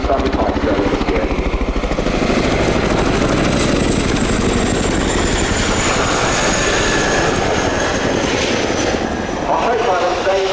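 A Chinook twin-rotor helicopter flies at the RIAT air show, its deep, steady rotor thump and turbine roar loud and unbroken throughout, with a commentator's voice faintly underneath.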